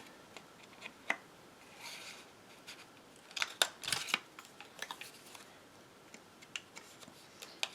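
A heavy duty paper punch cuts shapes from stacked paper, giving sparse, faint crisp snips and clicks with a louder cluster of cuts midway, close by with no talk.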